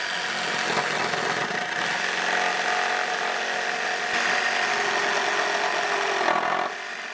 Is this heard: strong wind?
no